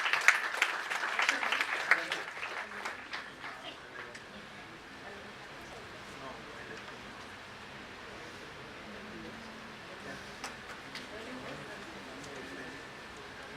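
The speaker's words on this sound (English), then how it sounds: "So an applause to yourselves and to the speakers." Audience applause for the speakers at a national conference on internal audit: a burst of hearty clapping from the hall for about three seconds that quickly fades into a low murmur of room noise.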